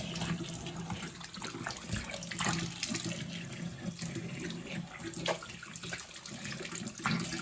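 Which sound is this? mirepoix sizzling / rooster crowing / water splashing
water splashing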